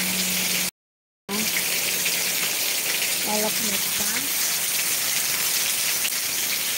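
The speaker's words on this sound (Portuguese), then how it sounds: "Estou mostrando um pouquinho do refresco da chuva aqui para nós." Steady afternoon rain hissing across surfaces, constant and enveloping, with a brief dropout and a voice speaking quietly underneath.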